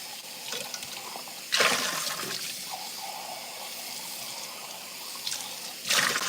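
Tap water runs steadily from a kitchen faucet to rinse a container before making matcha, with louder splashing bursts near the start and end as the flow changes against the sink.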